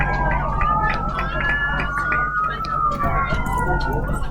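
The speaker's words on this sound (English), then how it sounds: "Yep, sirens are going off around us." Emergency sirens wail near a hospital beside a football game, one clear rising and falling tone over steady crowd and street noise, fairly close and sustained.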